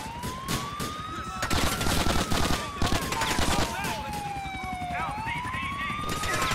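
Gunfire in the GTA IV The Ballad of Gay Tony video game: bursts of shots crackle through a continuous wailing police siren, with dense, busy action sounds throughout.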